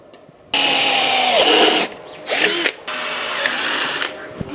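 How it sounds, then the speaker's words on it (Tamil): A power drill bores holes through two metal plates clamped together, working in loud, steady bursts of high whine with short pauses between them and no talk. "அதுக்கப்புறமா நான் ட்ரில் பண்ணி ஓட்ட போட்டுக்கிறேன்"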